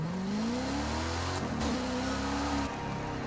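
A Saleen F150 truck in Forza Horizon 5 revs with a loud, close engine drone that rises in pitch, breaks at a gear change and climbs again, with no talk over it.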